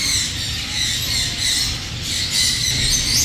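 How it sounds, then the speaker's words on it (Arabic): Birds of paradise squawk and screech repeatedly and loudly, close by, in a busy animal and bird shop in Baghdad, with overlapping harsh calls and no talk. "طائر البارادايس"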